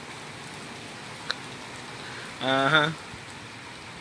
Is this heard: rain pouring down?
yes